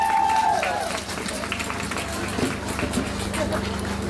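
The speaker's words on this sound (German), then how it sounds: "Es ist, glaube ich, ein ganz extra Applaus für beides wert." Audience applause at a One Billion Rising rally in Munich, a steady broadband wash of clapping hands that fills the whole clip at close range, with some crowd noise mixed in.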